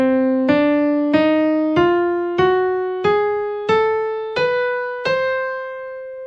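A scale starting on C and beginning with an upward whole step climbs eight evenly spaced, plucked notes, each struck note decaying before the next, in a steady ascending sequence played close and alone.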